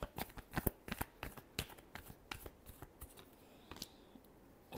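Tarot cards being shuffled by hand in a close, quiet room, a quick irregular run of crisp riffling flicks and soft slaps over several seconds with no voice.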